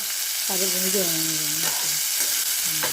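Chopped onion, tomato and other vegetables frying in oil in a pan for red rice vermicelli bhath, a continuous close sizzle with a wavering tonal whine rising over it at intervals, no speech.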